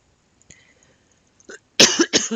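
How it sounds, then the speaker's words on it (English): A few sharp, loud coughs close by near the end, after a brief quieter rustle and a short throat sound. "I thought I was going to get through that without coughing."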